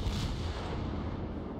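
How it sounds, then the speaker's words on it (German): Salvo from the naval guns of the cruiser Aurora in World of Warships, a heavy booming blast fading into a sustained rumbling roar, loud and heard alone. "So, jetzt sind alle. Eine Salve."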